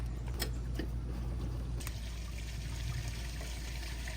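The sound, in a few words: gray water draining from RV travel trailer tank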